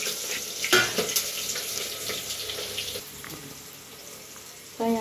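Chopped onion fries in hot oil with spices, giving a loud, bright, continuous sizzle with a few sharp spatters and brief clinks, and a short burst of talk near the end.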